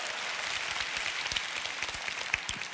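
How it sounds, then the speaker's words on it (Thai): A church congregation claps together during a Thai sermon, a dense, steady patter of many hands at close range that keeps a fairly even level throughout. "ปรบมือกับพระเจ้าล่วงหน้า"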